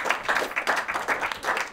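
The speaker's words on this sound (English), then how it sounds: "Round of applause." An audience applauds after a best-shot award at a farm partridge shoot, a steady patter of many hands clapping at moderate distance.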